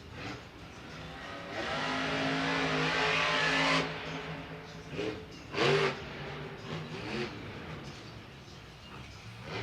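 A monster truck at a Monster Jam show in an indoor dome arena in St. Louis roars loudly as it accelerates toward a jump, its engine note rising and sustained, followed by a brief heavy thud of a rough landing amid crowd noise.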